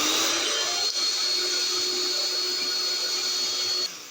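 An electric mixer whisks homemade mayonnaise as oil is added, whirring steadily and loudly for several seconds, a continuous high motor drone that eases off slightly at the very end.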